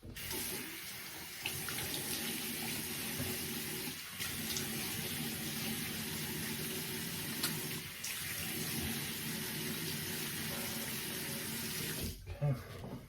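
Water pours steadily from a bathroom tap to rinse a shaving razor, a continuous close hiss and splash with brief interruptions and a clunk near the end.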